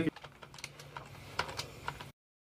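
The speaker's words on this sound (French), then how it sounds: "C'est quoi ce clavier de fou?" Loud computer keyboard typing, a quick run of sharp, irregular key clacks close to the mic, ending abruptly after about two seconds.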